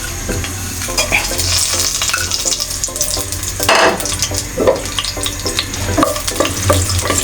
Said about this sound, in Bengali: আমি এটা ভালো করে একটু ভেজে নেব।